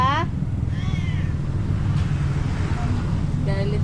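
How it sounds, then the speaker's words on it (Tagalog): Angry cat meowing in short, strained yowls at the start and again near the end, heard over a steady low rumble of passing traffic. "Nagagalit yung pusa eh."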